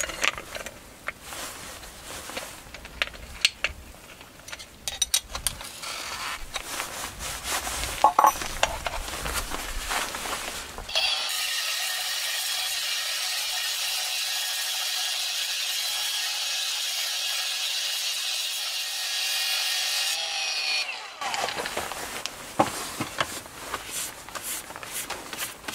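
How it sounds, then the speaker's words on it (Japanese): Black stone polished with stone-grinding wheels of grit GC36, GC60 and GC120, heard as a ten-second steady high-pitched grinding whine between stretches of scraping, handling and clattering noise, with no talk. "石材研磨用砥石 GC36、 GC60、 GC120 と3枚順番に使ってみました"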